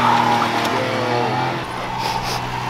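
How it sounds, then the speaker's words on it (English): A 717-horsepower Dodge Hellcat fitted with a new exhaust roars loud and close with a sustained engine drone that eases slightly partway through, with no talk. "Want to see me do a sick burnout?"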